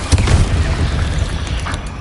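Bombarda spell blast in Hogwarts Legacy, a loud, booming explosion with a deep low-end rumble that slowly decays into debris noise.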